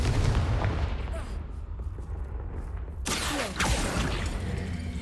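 A Confringo fire spell from Hogwarts Legacy bursts in a sharp, bright blast midway, followed by a second crackling impact, over dense rumbling game ambience, with a voice casting beforehand.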